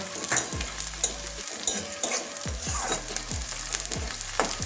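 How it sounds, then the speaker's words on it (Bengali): Onion and green chilli frying in a pan, a loud close sizzle with repeated sharp knocks and scrapes of a spatula against the pan every second or so, no speech. "পেঁয়াজটা একটু ভেজে নিচ্ছি, পেঁয়াজ কাঁচা লঙ্কা"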